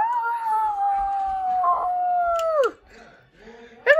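A voice imitating werewolves howling at the moon: one long, loud, wavering howl that slides gradually downward and breaks off, then a short pause and a second howl rising at the very end.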